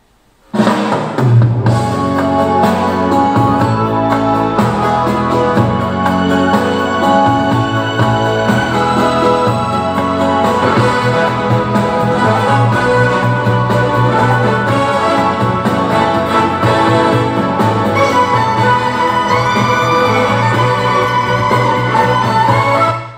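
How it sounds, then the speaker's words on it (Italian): Continuous loud electric violin melody plays over a full backing track with steady beat, coming from a Tronsmart Element T6 Bluetooth speaker throughout. "Questo era il suono di un violino elettrico"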